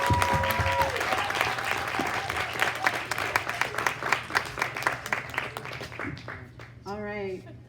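An audience at the 2019 Youth Media Summit applauds, with loud, clustered clapping that gradually thins out and fades before a voice starts speaking at the end.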